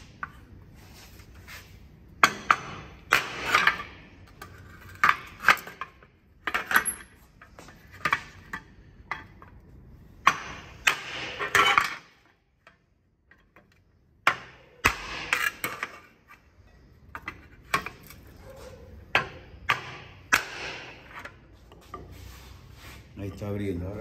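Sharp knocks of a wooden block against a crumpled car body panel being reshaped, a dozen or so irregular strikes with quiet gaps between them, close and fairly loud, with someone talking now and then.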